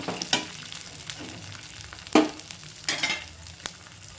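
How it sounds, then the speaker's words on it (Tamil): Soft sizzling of coconut sautéing in a pan with scraping stirs and a few sharper clacks of a utensil, close up, no talking. "ஒரு பக்கம் மீன் குழம்புக்கு வதக்கிக்கிட்டு இருக்கோம்"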